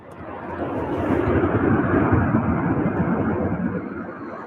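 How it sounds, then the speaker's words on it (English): A UPS Airbus A300 is on final approach at the UPS Worldport airport in Louisville. Its engines give a moderate, distant rumbling roar that swells and then fades slightly as it passes. "on final for the east side, we have a UPS Airbus"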